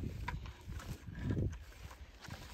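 Several horses approach at a walk, their hooves clip-clopping in an uneven rhythm at moderate distance, with faint snorts and shuffling around them.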